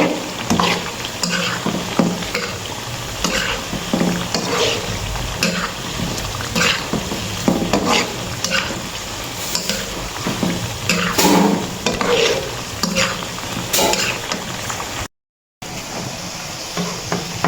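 A kamoteque mixture frying in oil is stirred in a pan, giving a steady sizzle broken by repeated scraping and clattering strokes, with a brief silent gap near the end.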